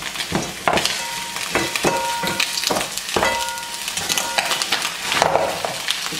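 Frozen meatballs drop into hot oil in a pan, giving a dense, loud crackling sizzle broken by repeated sharp clatters and scrapes as they land and get stirred.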